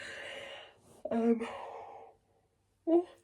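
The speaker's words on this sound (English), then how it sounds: "First yawn, I think, of the night chatting." A long, drawn-out yawn late at night, with a voiced stretch that rises and fades, then a short breathy exhale a moment later.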